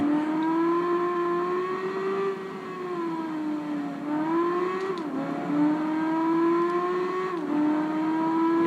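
A motorbike engine in the racing video game Tourist Trophy drones loudly and continuously, its pitch rising and falling as the throttle is revved and eased, with brief dips between surges.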